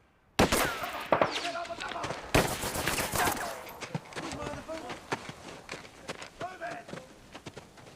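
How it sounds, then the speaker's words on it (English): Machine gun fire rattles in rapid bursts with sharp cracks and echoing reports at a World War I beach landing in an animated Gallipoli war documentary, fading and spreading into scattered distant shots. "The Turks had machine guns overlooking our main route to the beach."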